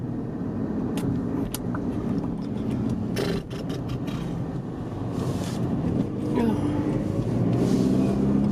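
A car driving on the road to a shopping center, with steady broadband road and engine rumble and some wind buffeting on the microphone, continuous throughout and fairly loud.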